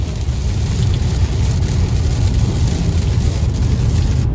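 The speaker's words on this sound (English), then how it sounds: "And this rain sucks, but at least it's not snow" Steady rain falls in a dense, unbroken hiss of patter, with no pauses and no voices.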